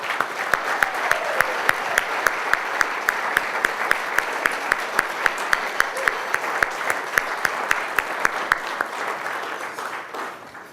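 Sustained applause for Jack Brooks at the Oklahoma City/County Historical Society gala, a thick crowd of clapping with one loud, regular nearby clapper punctuating the wash before it fades at the end.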